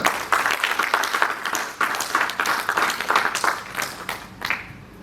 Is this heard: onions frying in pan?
no